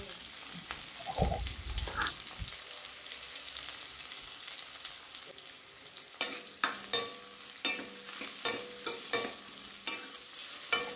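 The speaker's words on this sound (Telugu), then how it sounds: "ఎర్రగడ్డలు వేసుకోవాలి. అవి కొంచెం వేగిన దాకా వెయిట్ చేయాలి." Thinly sliced onions fry quietly in a pan, a faint steady sizzle that later gives way to a regular run of spatula scrapes and taps against the pan.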